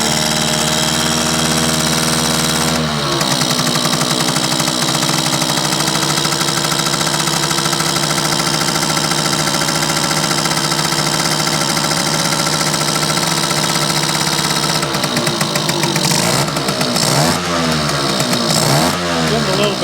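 A Yamaha YJ2 two-stroke motorcycle engine runs loud and close, revving down at first, then holding a steady buzzing idle before uneven blips near the end.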